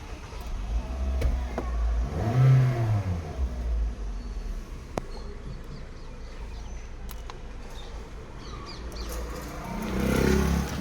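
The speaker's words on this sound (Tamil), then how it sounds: "engine start" A Toyota Corolla Altis engine starts and gives one rising rev that drops back to a low idle. Birds chirp faintly in the background.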